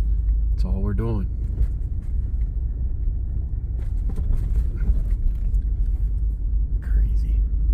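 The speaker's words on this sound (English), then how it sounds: "I mean, we're just driving up a big ditch" Off-road vehicle grinding up a dry canyon wash in Utah, a steady heavy low rumble running throughout, with brief talk near the start.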